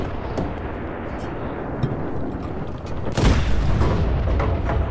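A tank main gun round fires in the Enlisted video game, a loud booming blast that follows a stretch of rumbling battle noise and trails off into echoing reverberation.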